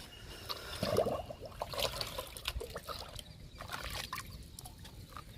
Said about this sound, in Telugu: లిక్విడ్ ఇస్తున్నాను